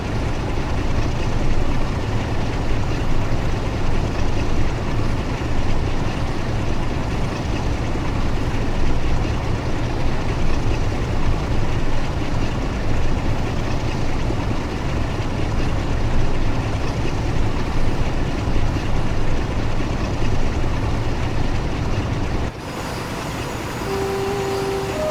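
A Class 47 diesel locomotive climbing a steep summit on the West Coast Main Line near Preston in a train simulator, pulling military cargo. A loud, continuous engine drone and rolling rumble hold steady, then drop abruptly near the end.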